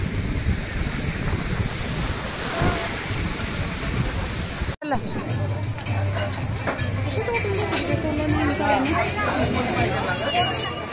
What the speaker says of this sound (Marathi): मी आता मस्त समुद्राच्या किनारी बसलोय.